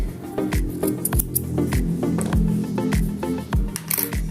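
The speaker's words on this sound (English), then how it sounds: "chain 1 to secure, then cut your yarn" Scissors snip through yarn at the end of a crochet piece, a quick run of several crisp, close cuts and small clicks in a quiet room.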